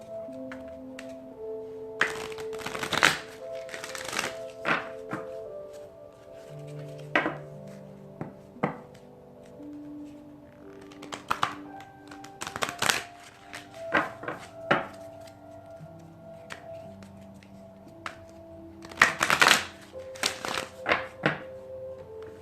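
An Enchanted Maps oracle card deck is shuffled by hand, giving irregular close thumps and riffling knocks in scattered bursts over a quiet room with faint tonal background music.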